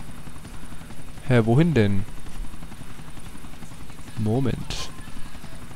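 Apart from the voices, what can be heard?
helicopter in video game The Ballad of Gay Tony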